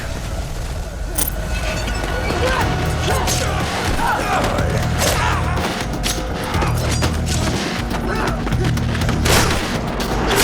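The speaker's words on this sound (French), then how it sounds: "les explosions sont quand même costauds hein, pour des grenades comme ça" Heavy booming grenade explosions and gunfire crackle through a war film action scene, loud and dense throughout with repeated blasts, low rumble and sharp bursts layered over one another.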